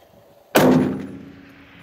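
A single sharp report from a long-range rifle shot at a milk jug target, a loud sudden crack with a ringing, clanging tail that fades over about a second against near silence.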